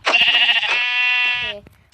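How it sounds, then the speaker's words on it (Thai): A sheep in a survival video game lets out one loud, drawn-out bleat, close and clear, with a short tail at the end. "เฮ้ยมีแกะด้วยว่ะผมเอามาครับเตียงนะน้องแกะ"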